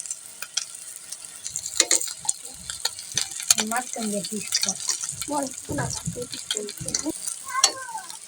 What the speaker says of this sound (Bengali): ডিমটা আমাদের ভাজা হয়ে গেছে এখন নামিয়ে নিই